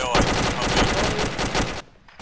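Close, rapid bursts of gunfire in the military video game ArmA 2 crackle continuously, then cut off abruptly near the end.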